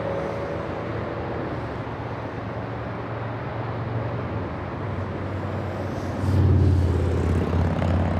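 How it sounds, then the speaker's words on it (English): A China Southern Airlines plane flies in to land at LAX airport, its engines making a broad, steady roar that swells louder near the end as it passes closer. "We have China Southern Airlines flying in from China."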